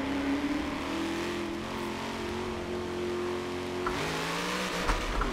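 A drift car in a racing video game, played on a Logitech G920 wheel with an NRG wheel, revs hard on throttle. Its engine note holds steady, then climbs sharply near the end, loud and continuous with no talk over it.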